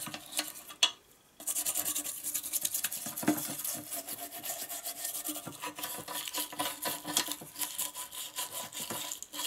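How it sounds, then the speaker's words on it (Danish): An old toothbrush scrubs a part of a Jonsered LM2146 lawnmower with a bent shaft, giving continuous rasping, bristly strokes in quick irregular rhythm, close and fairly loud, with a brief pause near the start and no talking. "Det hernede, der har jeg en gammel tandbørste."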